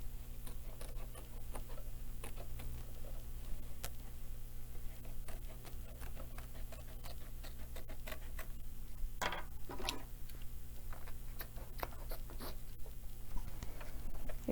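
Curved scissors trim appliqué fabric stretched on an embroidery hoop, giving quiet, irregular snips and scratchy clicks over a steady low background hum, with a brief cluster of louder cuts partway through.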